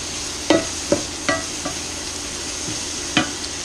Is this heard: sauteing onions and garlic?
yes